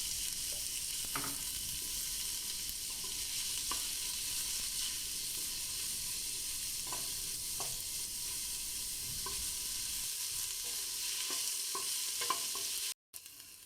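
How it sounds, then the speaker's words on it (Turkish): Steady sizzling of an onion sautéing in hot oil in a pot for lentil soup, with occasional soft clinks of stirring; the frying hiss drops out abruptly near the end. "1 adet kuru soğanı ekleyip yumuşayana kadar kavuruyoruz"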